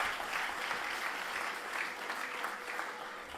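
An audience at a motivational speech in Tiruvallur claps and cheers in dense, sustained applause that stays steady throughout, with no speech over it.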